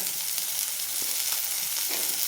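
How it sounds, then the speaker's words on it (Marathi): Garlic cloves and green chillies frying in a pan, making a steady close sizzle with a few faint stirring scrapes and no talk. "ह्याला पण आपल्याला याच्यासोबत परतून घ्यायचं"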